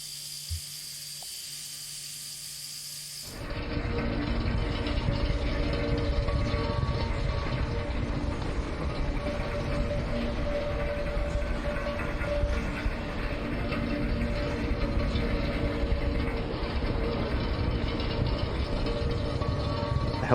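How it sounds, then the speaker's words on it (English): A tram in Kentucky Route Zero rolls along its track with a steady, loud mechanical rumble and rattle that starts abruptly after a quiet moment and continues evenly to the end. "This tram isn't going any further."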